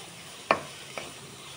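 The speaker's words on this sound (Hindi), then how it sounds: "आतां आमी कातरलेले कांदे घालता. आतां मिक्स करपाचें" Chopped onions fry in a pan for Goan chicken vindaloo, a continuous soft sizzle broken by two brief knocks of a spoon stirring, no voices present.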